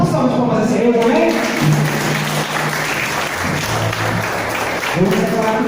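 A church congregation at a family service applauds, loud sustained clapping under a voice that keeps talking and exhorting over the crowd throughout.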